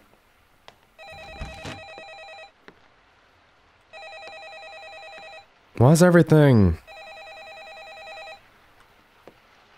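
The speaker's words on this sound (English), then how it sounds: "And I'm not answering your phone, Nick." A landline phone rings inside a house in a horror video game, two long electronic ring bursts separated by a pause, with someone talking between them.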